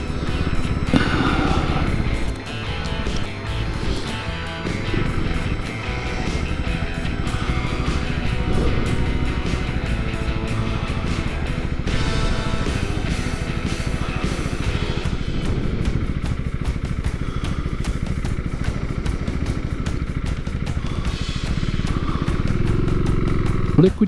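A KTM Duke 390 motorcycle with a liquid-cooled engine accelerates in a loud, continuous roar mixed with heavy wind rush that holds steady throughout, up close.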